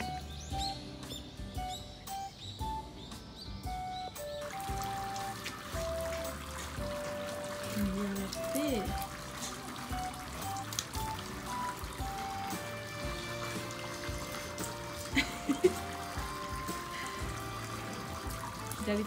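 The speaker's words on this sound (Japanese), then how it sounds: "左手最後洗うのね。" Water poured and trickling steadily while hands are washed, a soft continuous splashing with birds chirping in the background and a few faint clinks.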